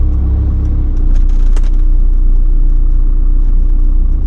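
Interior of a 2005 car fitted with a clutch being driven, a loud steady low engine drone that rises slightly after the first second, with faint rattles and clicks over it.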